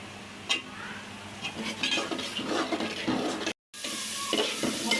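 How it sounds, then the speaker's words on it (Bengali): Potatoes and spices are stir-fried together, a close sizzle broken by repeated scraping and clattering of a utensil against the pan, with a brief moment of silence midway. "আলুটা আর মশলাটা একসাথে কষাবো।"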